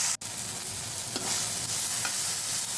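Tomatoes frying in hot oil in a pan for hotel-style idli sambar, giving a steady, close broadband sizzle with a brief dropout near the start and faint stirring touches.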